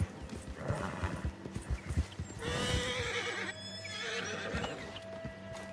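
A horse in the video game Red Dead Redemption 2 clops its hooves in a quick uneven patter, then gives a loud close neigh, with softer hoof steps after.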